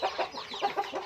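Chickens clucking in a coop, a few short, close cackling calls in quick succession over a brief moment, with no talk.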